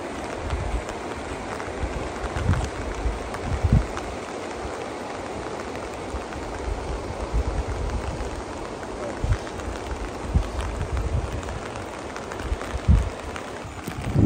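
Pouring rain beats down steadily during a cold October backpacking trip in Yellowstone's Bechler Valley, a dense continuous hiss with occasional louder thumps of footsteps or gear close by.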